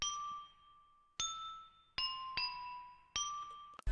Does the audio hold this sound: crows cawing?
no